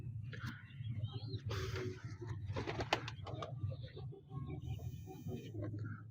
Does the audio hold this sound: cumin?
no